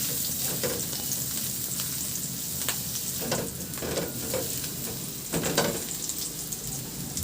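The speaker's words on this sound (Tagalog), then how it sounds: "Sa disim na kawali, igisa ko na rin yung bawang." Garlic sautéing in a hot pan: continuous loud sizzling and crackling throughout, with occasional brief scraping stirs and spatters, no voices.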